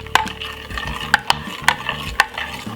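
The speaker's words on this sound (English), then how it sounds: "Give it a good stir." Spoon stirring beetroot juice sweetened with honey and a squeeze of lemon, giving a string of sharp clinks against the glass at irregular intervals over a soft swirl of liquid, close and fairly loud.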